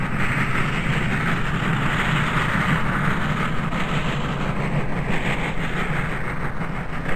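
A Norfolk Southern steam locomotive train running, heard as a loud, steady, continuous rumble and rattle of rail noise that holds without a break.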